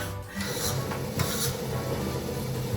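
A Thermomix TM7 kneads scone dough on its dough setting, giving off a steady, fairly subdued mechanical whir with a rubbing, grinding texture that runs continuously and evenly for the whole stretch, with no talking.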